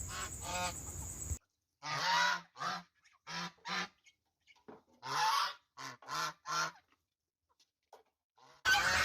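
Geese, a black breed, honk loudly in short, repeated bursts with brief pauses between, close by and without talk.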